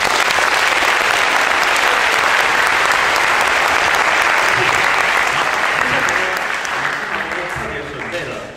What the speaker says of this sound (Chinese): 先给自己所有的学生们先一个热烈的掌声